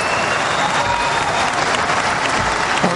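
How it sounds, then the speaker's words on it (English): A large audience at Cairo University applauds after Obama's landmark speech, a dense, steady roar of clapping that fills the whole stretch without pause. "the President of the United States has been addressing a very receptive crowd, as you can see by the people standing up and yelling"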